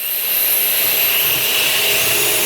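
A power drill whines steadily while drilling pocket holes in wood with a pocket hole jig, alongside the loud, constant rushing hum of a dust extractor, close by and unbroken.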